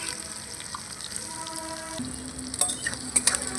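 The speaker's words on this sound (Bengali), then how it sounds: "পেঁয়াজটাকে আমি হালকা করে ভেজে নেব কড়া করে ভাজবো না" Chopped onion fries lightly in a hot pan, giving a steady soft sizzle with a few brighter crackles and stirring scrapes toward the end, close and alone.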